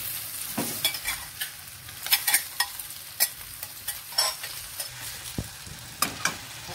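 Kwetiau rice noodles stir-fry in a hot pan, a continuous sizzle broken by repeated spatula scrapes and clanks in an uneven rhythm, close and alone.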